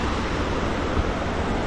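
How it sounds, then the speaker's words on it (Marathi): Water rushing past a roadside waterfall near Igatpuri, a steady broadband roar with no breaks, close and fairly loud with a windy, surf-like wash throughout. "मस्त पाणी जातं इकडून समोरून"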